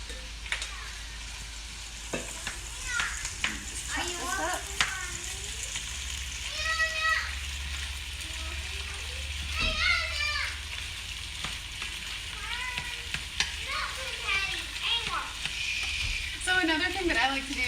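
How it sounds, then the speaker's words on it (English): Rice frying in a hot pan with vegetables, ginger and garlic, a steady sizzle running throughout beneath a person talking, with occasional stirring scrapes. "go ahead and add your rice to your hot pan because you want to try to get that fry"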